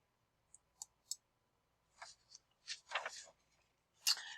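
A few faint, sharp computer mouse clicks tick quietly at close range, followed by a handful of slightly louder scratchy clicks and rustles near the end, with no one talking.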